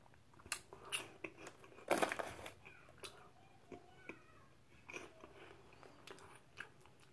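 Someone bites into and chews crunchy shrimp-flavored Japanese puff snacks up close, with an initial loud crunch followed by softer, irregular chewing crackles in a quiet room.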